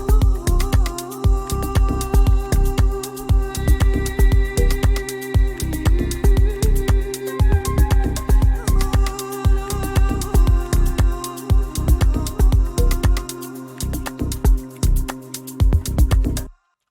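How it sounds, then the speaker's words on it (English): An Iranian-style voice sample from the Ethno World 6 Voices library in Kontakt holds sustained tonal lines inside an organic house track, riding over a loud, steady pulse of punchy drum hits that continues without pause until it cuts off. "And I chose this Iranian style sound"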